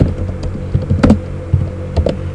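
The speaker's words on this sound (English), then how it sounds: "so we're going to type Advanced System Care 7" Typing on a computer keyboard, with irregular bursts of key clicks and a few louder strokes, close and clear over a low background hum.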